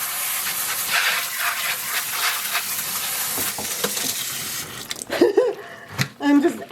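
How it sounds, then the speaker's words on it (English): Water sprays and hisses onto dry yarn speckled with dry dye in a bowl, a steady misty spray followed by sharper splashes and clatter near the end, with someone talking over it. "I'm just adding more water at this point"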